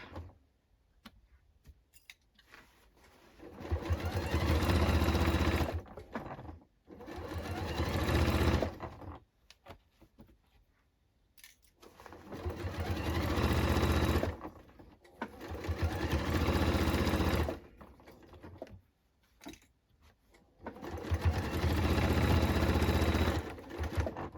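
Several separate runs of a sewing machine stitching the back seams of a denim jacket, each burst starting and stopping with quiet gaps, close and clear with no talk.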